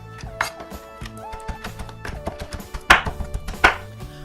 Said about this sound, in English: now I'm going to chop some pork